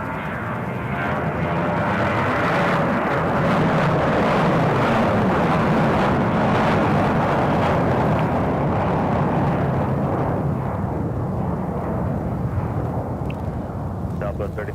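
Southwest airliner taking off, a loud sustained jet engine roar that swells and slowly fades as the plane climbs away, with faint talk in the background.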